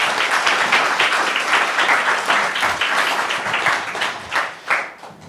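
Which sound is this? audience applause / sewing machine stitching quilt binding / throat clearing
audience applause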